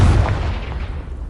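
A Confringo spell blast in Hogwarts Legacy, a single loud, deep booming burst that hits immediately and rumbles on briefly as it fades.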